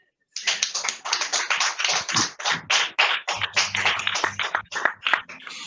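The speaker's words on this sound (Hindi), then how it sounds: "उसके लिए जोरदार तालियां बजाएं" Loud, steady clapping from a congregation at a seminary gathering in Pakistan: dense, closely spaced hand claps that keep going without a break, with a faint low voice underneath partway through.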